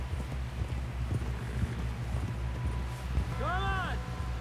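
Horse hooves clip-clop in a steady walking rhythm in the video game Red Dead Redemption 2, close and continuous under game music, with a horse's whinny near the end.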